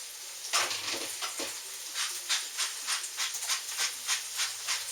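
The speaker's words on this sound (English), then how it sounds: "We're only going to saute this for a minute." Collard greens and ham hock sautéing in a pot, giving a steady close sizzling hiss that swells in soft rhythmic pulses, with no voices.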